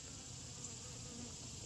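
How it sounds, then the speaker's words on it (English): Bees swarm a sugar water feeder, their steady droning buzz continuous and close, with no voices. "A feeding bee is a happy bee, and a happy bee is not a stinging bee."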